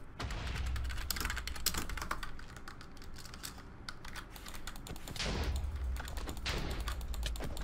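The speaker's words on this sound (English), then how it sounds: "Click spam" Rapid mouse clicking during a Minecraft session, a fast flurry of sharp, close clicks in irregular bursts with a brief quieter lull midway, fairly soft overall.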